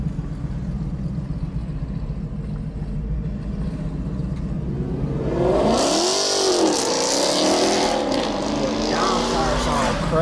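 A newly delivered car's engine revs, holding a steady rumble and then climbing into a louder, rising rev near the end, with people's excited voices over it.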